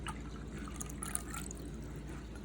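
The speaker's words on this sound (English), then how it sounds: "Now we're gonna add another cup of water to the other hypertonic solution." A cup of water poured into a container holding a hypertonic solution for an egg experiment, a faint steady liquid trickle with small drips, heard alone without talk.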